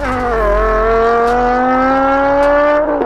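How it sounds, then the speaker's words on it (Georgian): BMW M5 high-revving 10-cylinder engine wailing loudly at high rpm, a steady sustained scream with rising pitch, held near and continuous for about three seconds. "მაღალბრუნიანი 10 ცილინდრიანი ძრავა, თავის პიკში ისე კივის, რომ აქსელერატორიდან ფეხის აღება არც კი მოგინდება"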